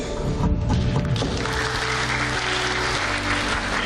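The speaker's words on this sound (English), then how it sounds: "so good applause for the team of NDMA" An audience at the concluding session of a resilience and global partnerships event applauds the organising team, broad clapping sustained throughout, mixed with low hum and other room noise.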